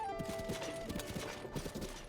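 Horse hooves clip-clop at a steady gallop-like rhythm in Zelda: Tears of the Kingdom, a quiet run of repeated hoofbeats with faint tonal game ambience underneath.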